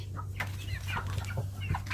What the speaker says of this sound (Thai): เลี้ยงไก่เยอะเลย